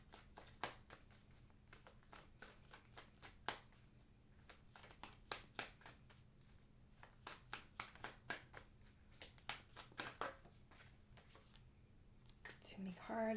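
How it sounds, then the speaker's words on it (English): Tarot cards being shuffled by hand in a quiet room, a long run of soft papery riffles and taps in an uneven rhythm, close and faint, with a voice speaking intermittently over them. "Too many cards. There was two that pulled out."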